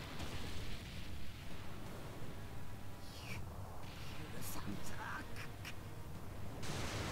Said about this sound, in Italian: la terra che si spacca